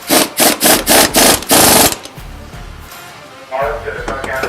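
Power tools fitting a suspension strut on a 2016 Ram 1500 Tradesman during a 6-inch Fabtech lift install: a loud, rapid pulsing impact-wrench burst, then quieter shop noise and another brief whir.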